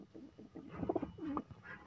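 Pigeons in a home loft with growing squabs give a few soft, throaty coos in quick succession, faint and fairly close against a quiet background.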